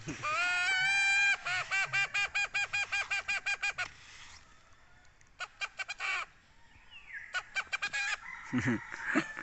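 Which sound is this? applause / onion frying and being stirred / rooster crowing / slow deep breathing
rooster crowing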